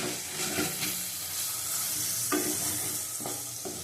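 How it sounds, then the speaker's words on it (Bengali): Beans being added to a frying pan with green chillies, a close, steady sizzle of hot oil with a few sharp scraping stirs of a spatula. "কষানো হয়ে গেছে, ছিমটা দিয়ে দেবো"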